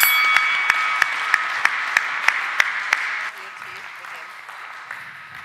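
A crowd at a startup pitch competition final applauds, with a string of sharp, rhythmic claps standing out over the steady patter before it fades and thins out.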